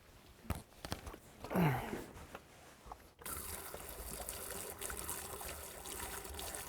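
93 octane gasoline is poured into a small 1-gallon fuel cell, a brief trickle and splash followed by a steady rushing liquid pour that continues to the end; faint handling noises come before it.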